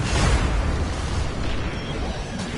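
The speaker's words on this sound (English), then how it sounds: "Just bombs." Bombs explode in Destiny 2 as a loud, deep rumbling blast that rolls on continuously, heavy low boom with crackling debris fading slightly toward the end.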